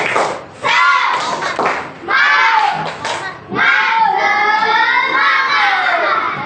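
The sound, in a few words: audience doing a rhythmic spirit clap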